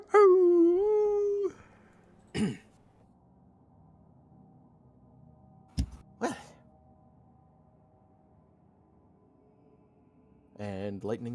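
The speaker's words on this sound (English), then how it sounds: "you all hear like the howling of animals" Animal howling plays as tabletop-game ambience, a drawn-out wavering howl that opens loud and clear, followed by a few brief yips and whimpers, then another rising, quavering howl near the end.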